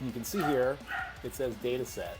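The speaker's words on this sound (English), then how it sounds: "if you listen carefully, you can hear my dog in the background" A pet dog barks and yips faintly in the background, partly masked by someone talking steadily close to the microphone.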